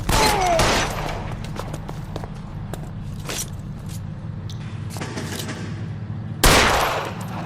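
A gunfight in the video game L.A. Noire opens with a loud burst of shots. Scattered sharp reports and clatter follow over a low hum, and a heavy blast near the end.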